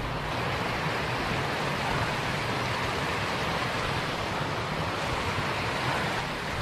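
A stream flowing steadily in the woods during a wild boar hunt, a continuous broadband rush of water heard close and unchanging throughout, with no voices over it.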